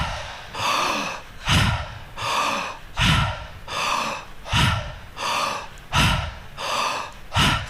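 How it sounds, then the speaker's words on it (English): Slow, deep breaths from a guided breathing exercise, about eight strong rhythmic inhales and exhales at an even pace, close and loud, with no talking. "and breathe"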